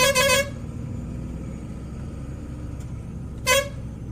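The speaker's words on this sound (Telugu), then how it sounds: "ఈ టర్నింగ్లో మనం హారన్ కొట్టుకుంటూ వెళ్తున్నా" Two short vehicle horn honks, one at the start and another about three seconds later, over a low steady engine hum, at a turn on a rain-damaged road.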